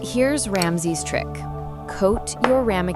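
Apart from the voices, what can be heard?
No everyday noise stands out behind the speech.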